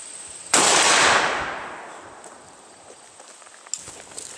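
A single loud shotgun blast of 000 buckshot fired through a modified choke, a sharp crack with a long decaying echo across an open range, followed by faint shuffling and a small click.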